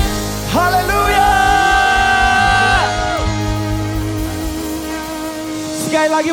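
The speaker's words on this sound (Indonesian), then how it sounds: "Sekali lagi bunyikan tepuk tangan sorak-sorai yang paling mudah untuk Yesus Kristus Tuhan" A church congregation cheers at a Christmas service, many loud, sustained voices shouting and whooping together in a big, dense swell that thins out toward the end.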